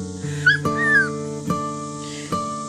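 Aussiedoodle puppies let out a few short, sharp yips and thin whimpers while squabbling, close and fairly quiet, in brief separate bursts.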